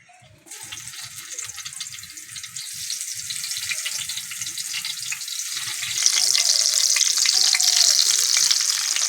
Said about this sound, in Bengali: তেলটা ভালো করে গরম হয়ে গেছে এক একে বেগুনগুলো দিয়ে দেবো